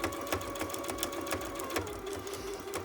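A sewing machine stitches a washable face cloth, running slowly and steadily with a close, rhythmic mechanical whir and regular needle clicks, with no talking.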